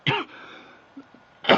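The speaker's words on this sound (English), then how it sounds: "got a little cough here" Two sharp, close coughs, one right at the start and another about a second later, with near silence between them.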